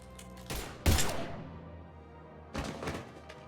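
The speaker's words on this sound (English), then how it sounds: "Now open fire!" Gunfire in the video game Mass Effect 3, a few sharp shots and bursts in two clusters about two seconds apart over a low ambient hum, with no talking.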